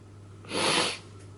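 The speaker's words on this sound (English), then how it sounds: "Hang on, I'm gonna sneeze." One close, breathy sneeze bursts out briefly, with nothing else around it but faint background hum.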